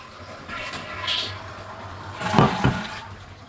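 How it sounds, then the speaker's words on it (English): A household toilet with its water supply shut off is flushed to empty the tank, giving a close rushing gurgle of draining water that swells midway and then tapers, with no speech over it. "I'm going to flush it to remove the water in the tank"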